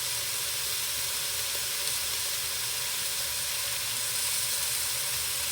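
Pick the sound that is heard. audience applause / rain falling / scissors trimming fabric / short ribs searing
short ribs searing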